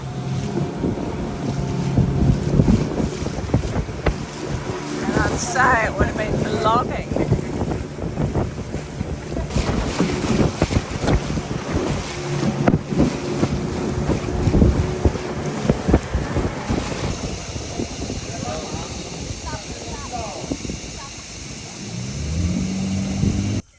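Long boat travelling down a river in Borneo, its engine a steady low drone mixed with rushing water and gusting wind noise across the whole stretch, with a brief voice heard faintly under it.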